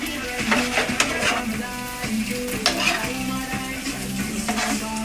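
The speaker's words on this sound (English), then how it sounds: "And then I'm just gonna stir it out." Corned beef with black pepper being stirred in a pot, with steady scraping and clinking strokes over a continuous sizzle, fairly close and loud, with no voices.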